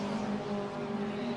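Race cars on a circuit, including a blue and white car and a black and red machine, drone past at a steady mid-distance, one engine's buzzing note holding across the whole short stretch with no voices over it.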